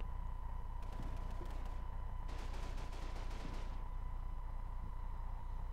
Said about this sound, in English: Let's see, just shooting into the area.